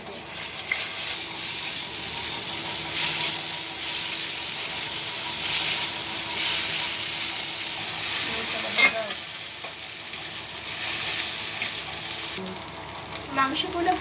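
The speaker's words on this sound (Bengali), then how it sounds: "মাংসগুলো সব দিয়ে দিয়েছি, এবার মাংসগুলো আস্তে আস্তে ভেজে নেব" Marinated chicken meat frying in a pan, a loud continuous sizzle with crackling and spoon stirring against the pan, close and steady, with a brief clatter near the end.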